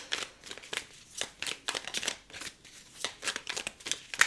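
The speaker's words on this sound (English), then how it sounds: "God, I'm shuffling so much" Tarot cards being shuffled by hand, a rapid series of crisp riffling bursts repeating in a quick irregular rhythm, close and fairly quiet with no talk.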